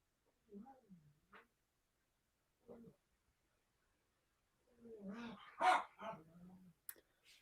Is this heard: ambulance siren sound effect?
no